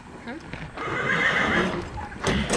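A horse at a fair horse show, being fed carrots, lets out a whinny amid shuffling hooves and snorting, close by, while people talk over it.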